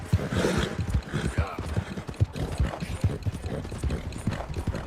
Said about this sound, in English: qué caballo para tener tanto aguante para correr